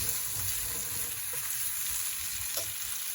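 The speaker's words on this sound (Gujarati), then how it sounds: "મેં જે વઘાર થઈ ગયો હતો એમાં દાળ પણ મિક્સ કરી લીધી છે" Dal stirred into a hot spice tempering, a steady broadband sizzle with a few soft scraping stirs, close and continuous with no voices.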